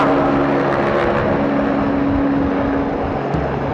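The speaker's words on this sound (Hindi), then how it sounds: "अच्छा देख लो हेलीकॉप्टर देख लो, सब लोग देख लो" A helicopter passes overhead at an outdoor religious gathering in Mathura, a loud, steady engine and rotor drone holding for the whole stretch with a sustained tonal hum.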